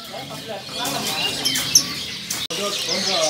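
Canaries chirp and twitter busily together, a steady mix of calls with a voice talking partly over them.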